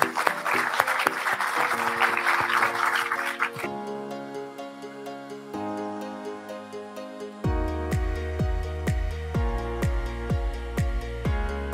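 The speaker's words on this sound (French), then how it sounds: "je crois qu'on peut l'applaudir" Audience applause at a French national youth convention awards event, a dense burst of clapping for the first few seconds that gives way to music with steady tones and rhythmic low pulses.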